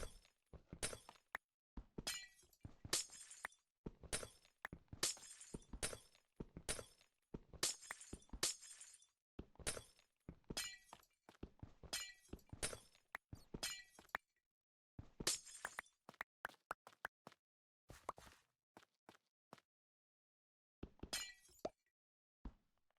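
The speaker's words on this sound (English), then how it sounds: "You forget how tedious it is to take down glass panes." Glass panes in the video game Minecraft are broken one after another, each a crisp shattering clink in a fast, repetitive series with short pauses, clear and alone.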